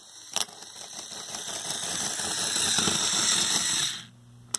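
A Lego Technic motor drives a heavy-duty two-speed manual planetary gearbox, giving a steady whirring, rattling gear drone that builds and holds for several seconds, then cuts off abruptly as the motor stalls, leaving a faint hum and a final click.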